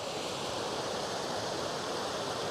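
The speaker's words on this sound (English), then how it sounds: "This is the lovely waterfall" The waterfall at the foot of Garbh Allt on the Isle of Arran, in a glen just above where it meets the Rosa Water, gives a steady, even rushing roar of falling water with no other sounds.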